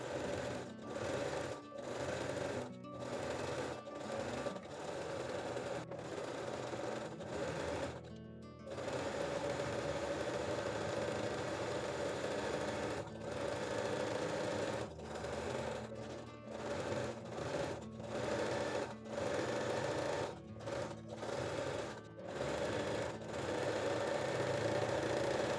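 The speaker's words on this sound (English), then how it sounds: "Now we can fold the fold over elastic and stitch the panties all around again." A sewing machine stitches fold-over elastic around a thong, running in steady bursts with short pauses between seams, close and continuous.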